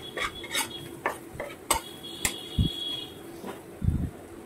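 Onion, garlic and ginger are stirred in a frying pan, repeated scraping and clinking strokes of a utensil over a faint sizzle, with a few dull knocks; no speech.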